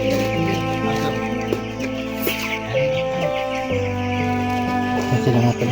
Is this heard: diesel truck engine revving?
no